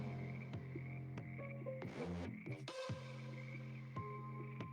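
Frogs croak repeatedly in a swamp behind a church in a Vampire: The Masquerade actual-play scene, steady rhythmic pulses forming a dense, close ambient chorus with no talking.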